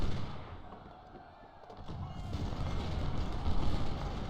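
Cannon booms and rolling musket volleys from an Ultimate General: Civil War battle at Antietam rumble as a dense, continuous din that swells louder toward the end, with no voices.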